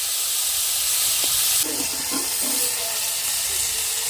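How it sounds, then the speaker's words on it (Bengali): Prawns fry lightly in a pan with a loud, steady hiss of oil and steam, broken by a few faint utensil knocks. "আমি এই রেসিপির জন্য চিংড়ি মাছগুলো খুব একটা শক্ত করে ভাজতে নিই"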